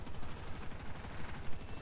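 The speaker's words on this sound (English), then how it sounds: "I only have my 20mm cannons" Rapid 20mm cannon fire from an A-1H Skyraider in the War Thunder video game: a continuous stream of fast, closely spaced shots with a rattling rhythm, moderately loud and steady, with no voices.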